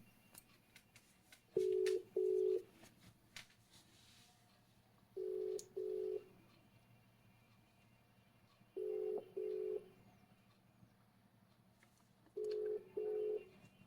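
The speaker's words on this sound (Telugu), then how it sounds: "ఇది ఒక ఫోన్ చేస్తా లిఫ్ట్ చేస్తే లిఫ్ట్ చేశారు" A phone call is dialed and rings out unanswered, four evenly spaced double-ring tones from a handset, faint and alone with a low background hum between them.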